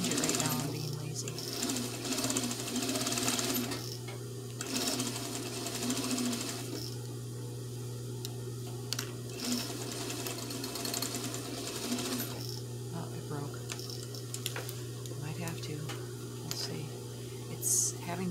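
A sewing machine stitches fabric for a market bag, its needle threaded with thread prone to breaking, humming steadily in a continuous run that pauses briefly between bursts, with a voice speaking over parts of it.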